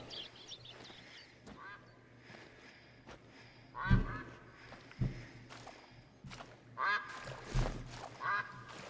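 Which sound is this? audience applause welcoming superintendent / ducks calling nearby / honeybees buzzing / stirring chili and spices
ducks calling nearby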